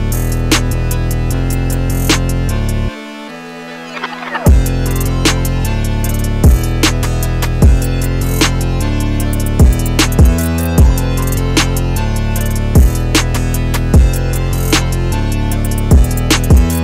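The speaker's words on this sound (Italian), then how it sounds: "Il beat completo suona così." A complete hard trap beat built in FL Studio, with a dense synth loop and punchy drums, including a snare from a drum kit. The beat drops out briefly near the start, then returns loud and steady, with regular hits through to the end.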